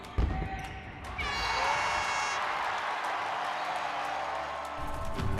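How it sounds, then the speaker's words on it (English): Fans at a Dixie State women's basketball game cheer and applaud in a sustained crowd roar lasting several seconds, with a sharp bounce or thud at the start. "and everyone showed up to cheer."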